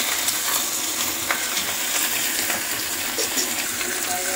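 Choy sum stir-frying in a hot wok, a loud, steady sizzle with scraping from stirring that runs unbroken throughout.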